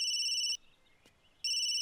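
A household telephone rings at home in a family drama scene. Two clear electronic ring bursts are split by a short quiet gap, heard fairly softly with no talk over them.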